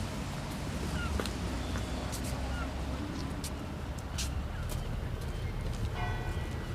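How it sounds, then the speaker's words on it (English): Church bells ring at a distance in a seaside town, their clangs rising out of a steady wash of outdoor background noise. "What about these bells?"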